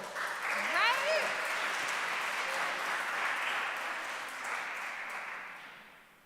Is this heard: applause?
yes